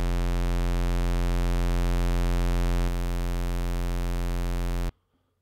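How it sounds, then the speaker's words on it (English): A synth bass patch run through diode distortion drones as a steady, loud, buzzy sustained tone with rich harmonics, dropping slightly in level midway and cutting off abruptly near the end. "give it a diode distortion"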